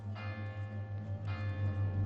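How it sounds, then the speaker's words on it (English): A small cathedral bell rings insistently, with two distinct strikes whose tones hang and overlap in a sustained, moderately loud shimmer. "I hear the tiny bell of the cathedral ringing insistently"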